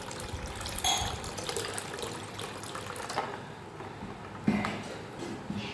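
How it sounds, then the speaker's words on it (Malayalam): Cold water pours and splashes into a container for a drink, a running trickle with a couple of louder splashes partway through. "ഇനി നമ്മളിതിലേക്ക് തണുത്ത വെള്ളമാണ് ഒഴിച്ചു കൊടുക്കുന്നത്, നല്ല തണുത്ത വെള്ളമാണ്"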